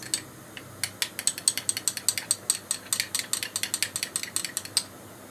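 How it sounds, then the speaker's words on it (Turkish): A utensil stirs a tomato paste sauce for noodles in a pot or pan, giving a quick run of sharp clinking, scraping taps repeated steadily over several seconds, close and fairly clear, with no talk. "Şimdi sosumuzu iyicene karıştırıyoruz."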